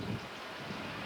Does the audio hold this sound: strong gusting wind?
yes